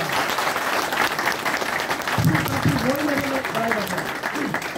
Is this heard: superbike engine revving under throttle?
no